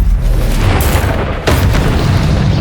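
A Confringo fire spell explodes in Hogwarts Legacy, with a loud, roaring blast punctuated by two sharp booming bursts in quick succession.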